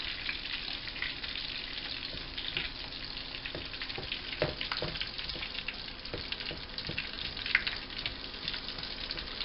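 Food frying in a pan until crispy at the edges, with a steady sizzle and scattered pops and crackles, close and moderately quiet.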